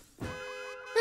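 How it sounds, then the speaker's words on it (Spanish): A cartoon alarm from the PJ Masks animated series rings as a steady, bright electronic tone. It holds for most of a second after a short burst of noise, then jumps louder at the end. "¡Una alarma!"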